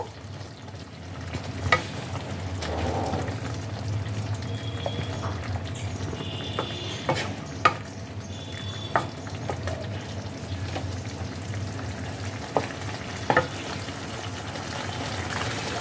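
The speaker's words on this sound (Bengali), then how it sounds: "ধনেপাতাটাকে আবার হালকাভাবে একটু ঝোলের সাথে মিশিয়ে দেব।" Pabda fish curry simmers in a pan as chopped coriander is stirred in, a soft bubbling sizzle underneath with occasional sharp spoon clinks and scrapes against the pan.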